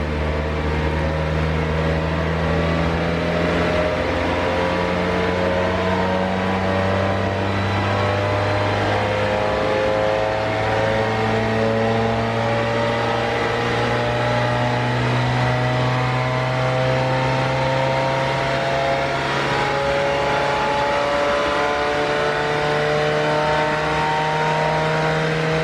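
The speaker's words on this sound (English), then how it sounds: "I present the slowest dyno runs you'll find on the internet." A VW Golf MK1 engine revs steadily on a dyno, hood closed, its rising harmonic drone climbing slowly and evenly through a long, loud pull with no voices.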